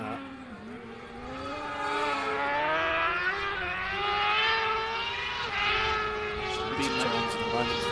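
A hillclimb race car engine screams at high revs, rising and falling through gear changes as it passes, loud and sustained with harmonic whine.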